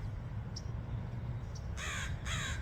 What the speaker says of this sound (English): bird don't like that I'm here, I guess.